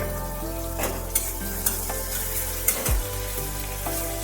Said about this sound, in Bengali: ঘিয়ের মধ্যে হিং আর আদাটা একটু ভেজে নিতে হবে।